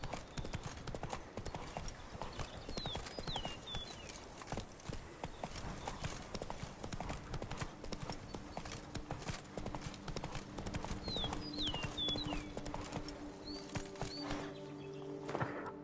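Roach the horse gallops in Witcher 3, a quiet, steady rhythm of hooves with a few faint bird chirps in the background.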